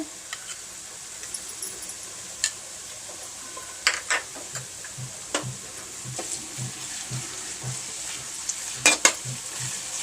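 Ginger garlic paste frying in a pan for veg biryani, a soft steady sizzle with a few sharper stirring scrapes and light taps close by, no talking.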